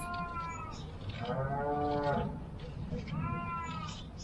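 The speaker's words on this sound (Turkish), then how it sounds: "Kuzucuk bağırıyor." Several drawn-out bleats from a newborn lamb, with low background murmur and a nearby voice.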